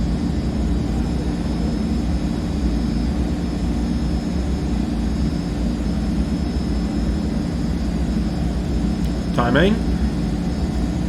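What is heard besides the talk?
C160 Transall engines at full takeoff power, flight simulator video game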